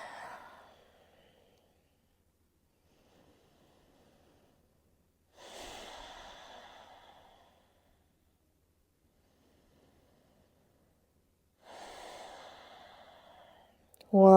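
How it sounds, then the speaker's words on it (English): Slow, deep breaths taken during a gentle floor stretch, three soft airy exhales spaced several seconds apart with near silence between them, close and quiet. "Take a few deep breaths."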